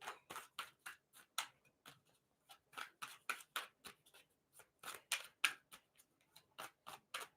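Playing cards are shuffled in quiet, crisp riffling bursts, a rapid irregular series of snaps with short pauses between groups.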